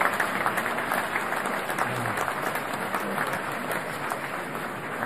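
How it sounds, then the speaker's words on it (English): Graduation audience at a naval postgraduate school ceremony gives sustained applause for parents, a dense, steady wash of many hands clapping throughout, moderately distant in a large hall. "Give your parents a round of applause."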